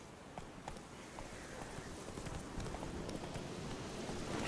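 Hooves of Roach, a horse in the video game Witcher 3, beat a fast repeated clip-clop at a gallop, steady and close against a continuous noisy wash of background sound.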